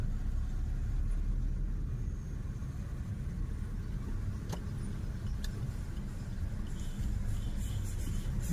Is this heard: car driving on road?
yes